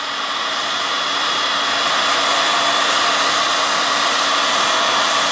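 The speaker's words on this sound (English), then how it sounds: "I just put the heat gun on it" A heat gun blows a steady, loud, close roar onto a mobile phone circuit board, a continuous whoosh with no pauses and no talking.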